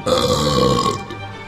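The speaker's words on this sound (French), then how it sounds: "le monstre à bout de nerfs, complètement épuisé, fit un gigantesque rot" A single giant, drawn-out burp sound effect, loud and close, rolling for over a second before trailing off, used as the monster's belch in a children's stage play of Pinocchio.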